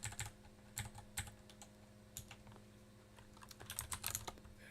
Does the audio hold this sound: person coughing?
no